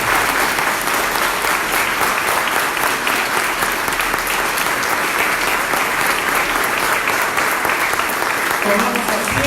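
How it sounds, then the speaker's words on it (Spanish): A church congregation breaks into loud, sustained applause, dense clapping filling the space steadily without pause from start to finish. "Vamos a dar un fuerte aplauso a Jesucristo."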